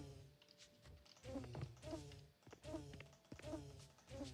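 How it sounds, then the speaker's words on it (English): A swarm of bees buzzing in a simulator video game, faint and steady, with droning tones that rise and fall in repeated pulses. "by just moving that, they are making the same sound of the bees."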